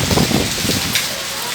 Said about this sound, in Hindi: तगड़ी बारिश, बिल्कुल जैसे गर्मियों में होता है।